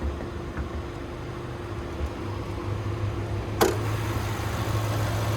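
A 2026 Chevy Traverse RS AWD's 2.5-liter turbocharged four-cylinder engine idles with a steady low rumble and hum. There is one brief click partway through.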